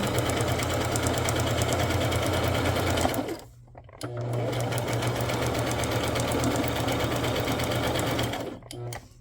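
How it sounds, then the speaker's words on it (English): A sewing machine stitching a tuxedo pocket runs in a steady, loud mechanical whir, stops briefly, then starts again for a second long run before halting near the end. "But I do need to sew that pocket up"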